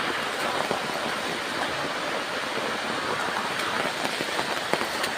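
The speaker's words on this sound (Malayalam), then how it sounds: "ഈ മഴയത്തൊക്കെ ഇങ്ങനെ കുടയും ചൂടി പോകാനൊക്കെ നല്ല രസമാണ്." Heavy rain falls steadily, a dense continuous hiss with occasional louder spatters, close and unbroken, with no voices.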